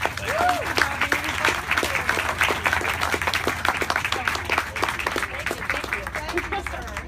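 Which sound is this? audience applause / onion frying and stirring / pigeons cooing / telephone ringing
audience applause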